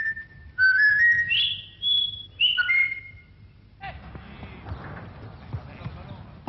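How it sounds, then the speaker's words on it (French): A parrot whistles the French fencing team's rallying call, a short rising and falling tune of clear notes, followed by a burst of chatter and noisy crowd sound. "c'est le sifflement de ralliement de l'équipe de France interprété par le perroquet"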